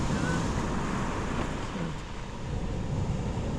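Waves breaking steadily on Slapton beach, a shingle beach on the Devon coast, under northeast winds and surge. A continuous, loud wash of surf with wind rumble across the microphone fills the whole stretch, with no voices.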